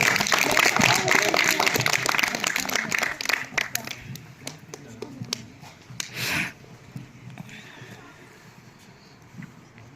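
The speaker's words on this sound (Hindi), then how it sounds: "जोरदार तालियों से।" Applause from guests at a school teacher's retirement party, clapping loudest in the first few seconds and fading out, with voices and room noise underneath.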